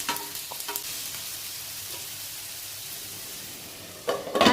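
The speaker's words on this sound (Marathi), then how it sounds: "पॅन तापत ठेवला आहे, तेल टाकलं आहे, कांदा परतून घेतला आहे, टोमॅटो टाकते आणि शिमला मिरची टाकते" Onion, tomato and capsicum sautéing in hot oil in a pan for paneer bhurji, a soft steady sizzle with occasional scraping stirs, a louder clatter of stirring at the end.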